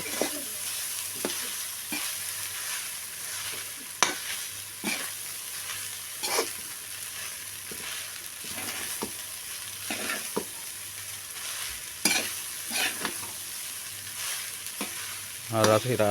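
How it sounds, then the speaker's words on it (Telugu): Prawn fried rice with masala being stirred in a pan, soft steady sizzle of frying under repeated scraping and tossing strokes from a spatula, close and moderately quiet, no voices. "ఈ అన్నం దాంట్లో కలిసేటట్టు బాగా కలపాలండి ఆ మసాలా అంతా రైస్కి పట్టాలి బాగా"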